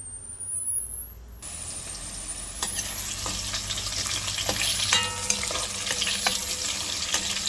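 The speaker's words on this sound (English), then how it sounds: "So here I am caramelizing or charring some onions and garlic, and this is gonna give the curry crab a delicious flavor" Onions and garlic frying in curry oil for Jamaican curry crab, heard as a steady, close sizzle with occasional clinks and stirring scrapes.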